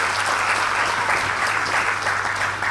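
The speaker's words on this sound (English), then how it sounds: "I think they deserve a big round of applause." Steady, full applause from an audience at a school program for a Grade 5 class, dense clapping that continues throughout with no talking over it.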